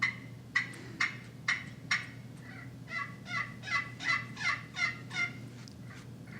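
A hunter's turkey call runs from clucks into yelps: five sharp, evenly spaced clucks, then a quick rhythmic string of about eight raspy yelps, close and clear over a low hum.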